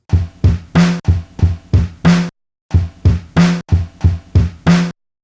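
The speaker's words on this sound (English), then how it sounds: "I'm using the loop and I'm triggering it twice to give it a little stutter effect" A chopped drum loop plays in short repeated bursts, each phrase retriggered twice in quick succession for a stuttering rhythm, with a brief gap midway.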